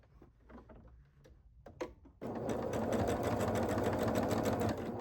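Sewing machine stitching a quilt block, starting abruptly after a couple of seconds of quiet handling clicks and rustles, then a loud, steady, rapid needle whirr running close up to the end.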